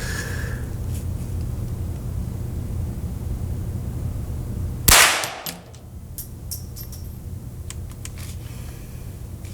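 A Ruger 10/22 Takedown rifle in a Magpul X-22 stock fires a single sharp, loud shot after a stretch of steady background hum, followed by a brief fading tail and a few faint clicks.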